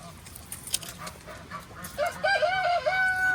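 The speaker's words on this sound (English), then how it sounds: "Free the chickens!" Chickens cluck and a rooster crows in a bird sanctuary, the crow rising clearly near the end over soft background noise and faint nearby voices.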